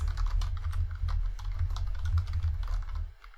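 Continuous clattery typing on a noisy, clanky computer keyboard, with dense overlapping keystrokes close to the mic for about three seconds and no talking.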